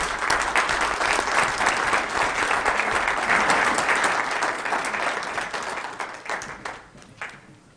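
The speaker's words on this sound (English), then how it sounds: "Please give her a round of applause" Dense audience applause for a Crystal Bull Award winner at a Weber County event, loud and sustained before thinning out and tapering off to scattered claps near the end.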